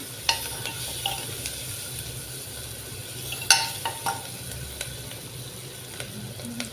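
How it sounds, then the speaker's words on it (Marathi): Chopped onion sizzles in a pan with turmeric while a spatula scrapes and taps through it, a steady frying hiss broken by several sharp clinks of metal, near and clear, with no speech. "कांदा चांगला परतून घ्यायचा."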